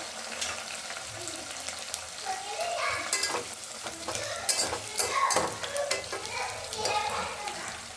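Curry leaves and sliced green chillies frying in hot oil for a mutton masala curry, a steady crackling sizzle with sharp spatters and pops running throughout, close and fairly loud, with no talking.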